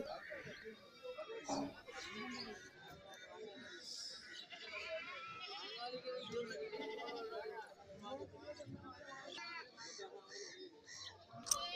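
At a busy goat market in Kerala, goats of mixed sizes, including milking breeds, bleat intermittently at a moderate distance while people talk steadily over them.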